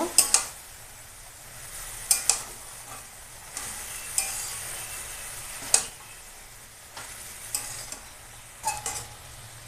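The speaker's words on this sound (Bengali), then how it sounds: "এবার ভালো করে মিশিয়ে নেব" Ground cumin, coriander and ginger paste being stirred into cabbage, with scraping spoon strokes and clinks against the pan coming in bursts over a soft sizzle.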